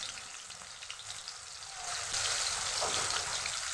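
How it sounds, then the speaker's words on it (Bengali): Fish sliding one by one into hot oil for a stingfish and potato curry, a steady broadband sizzle that swells louder partway through as more pieces go in, close and continuous with no voices. "এবার আমার তেলটা গরম হয়ে গেছে। একে একে মাছ দিয়ে দেবো ভিতরে।"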